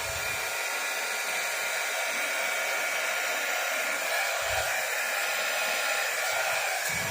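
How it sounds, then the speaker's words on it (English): A compact blow dryer runs on its low setting, giving a steady, close, even whoosh of airflow with a high motor whine and occasional low handling bumps, with no speech. "It's even more powerful than my full-size blow dryer. So, we're going to use this on low."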